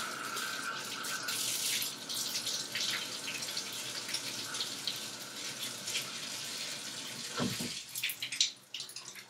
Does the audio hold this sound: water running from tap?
yes